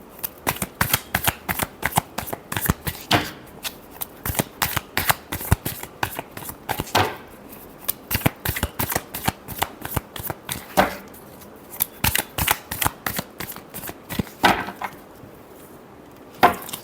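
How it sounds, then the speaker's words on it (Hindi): Tarot cards are shuffled by hand in repeated quick riffling bursts, crisp papery flicks and slaps close to the mic, continuing rhythmically throughout with no talking. "Last shuffle."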